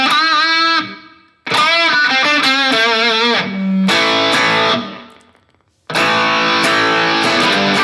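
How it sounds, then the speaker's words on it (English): An electric guitar with a built-in amp rings out in a heavier distorted tone, loud chords and note runs in phrases separated by brief pauses, played alone. "Now we're into a heavier tone."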